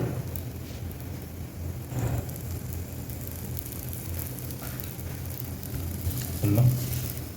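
A stuffed chicken chapati fries on a pan with oil poured around it, producing a steady, even sizzle that stays close and continuous without a break, with no one speaking.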